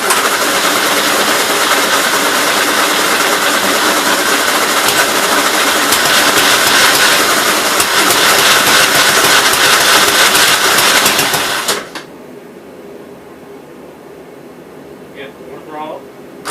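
Engine of a 1957 Gravely SR tractor running after a top end rebuild, a loud steady close drone for about twelve seconds that suddenly cuts out, leaving quiet background.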